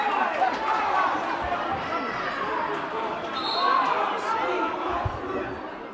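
Home crowd in a high school boys basketball gym reacts with sustained, rising murmurs and groans after a referee's foul call, with a general crowd din that swells midway and continues throughout.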